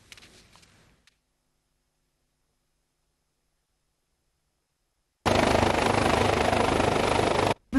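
A helicopter carrying the president of the Republic of Congo in Kinshasa is heard after a long near-silence: a loud, steady roar of rotors and engine fills the last few seconds, with no talk.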